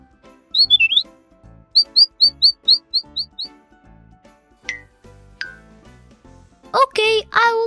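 Cartoon birds chirp in quick repeated bursts, a short warble followed by a rhythmic series of about eight sharp tweets, then a few squawky calls, set against faint background music in an animated Elephant and Piggie read-aloud.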